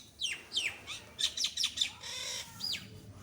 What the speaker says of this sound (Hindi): आपको आवाज़ जा रही होगी चिड़िया का, मैं गार्डन में बैठ के वीडियो बना रहा हूँ, बहुत सारी चिड़िया रहती हैं यहाँ पे